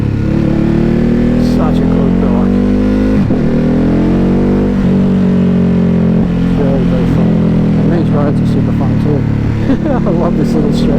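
Motorcycle engine droning loudly and steadily while riding on open country roads, its pitch rising and dipping with throttle changes, with wind noise over it.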